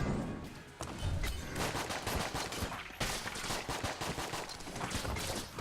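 Dense, continuous bursts of game gunfire from the twin-stick shooter Enter the Gungeon, a steady rattle of overlapping shots with thuds, loud and busy throughout with no pause.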